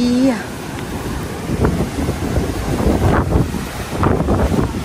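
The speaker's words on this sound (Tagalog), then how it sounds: "ang lakas ng alon" Strong ocean waves surge and crash with heavy wind buffeting the microphone, broad rushing noise swelling in repeated bursts, while excited voices exclaim over it.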